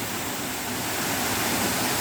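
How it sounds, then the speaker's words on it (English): Steady broadband roar of falling water atop Argyle Waterfall in Tobago, loud and continuous, heard up close with no voices. "On top of Argyle Waterfall"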